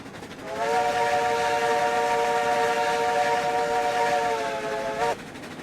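A steam locomotive whistle in the railroad video game RailRoads Online sounds one long, steady chord-like blast lasting about four and a half seconds, loud and alone, cutting off sharply at the end.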